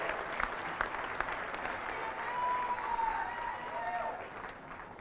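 A crowd at a girls' basketball fundraiser game applauds a student fundraiser, with steady dense clapping and some cheering throughout, moderately loud and sustained with faint voices mixed in.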